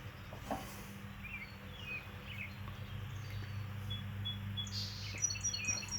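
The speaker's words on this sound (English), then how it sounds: "Nice though, birds singing." Several birds sing and chirp in an outdoor garden on a warm day. Short, scattered calls come from near and far over a faint low hum, with no talking.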